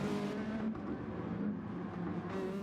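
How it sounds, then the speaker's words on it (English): A Lexus race car's engine drones in a sim racing league event, a steady, buzzy mechanical hum with slight pitch shifts as the car holds speed, continuous and fairly close with no talk. "The '08 sounds a little bit meaner with American muscle engine."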